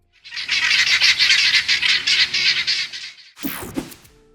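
A flock of birds screeches loudly and continuously in a harsh, pulsing chorus for about three seconds, followed by a short burst of sharper cries and wing flaps at the end.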